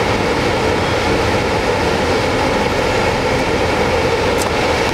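The Dubai monorail on Palm Jumeirah runs past with a loud, steady rumbling roar that holds evenly from start to finish, with no talking.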